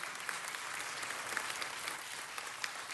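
Steady applause fills a city council meeting chamber, a dense even patter of many hands clapping throughout with no break.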